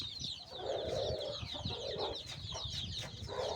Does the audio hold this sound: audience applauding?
no